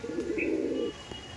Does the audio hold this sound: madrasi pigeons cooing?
yes